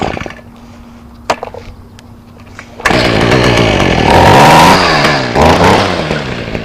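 A gas-powered string line trimmer is pulled and fires up just before the three-second mark, then runs loud and close with a raspy two-stroke buzz that rises and falls as the throttle is worked, with no talk over it.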